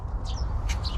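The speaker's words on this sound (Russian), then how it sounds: "Китайская шелковая кура." Chinese Silkie chickens in an outdoor poultry enclosure on Yelagin Island in St Petersburg give a few short, high chirping calls over a steady low rumble of background noise.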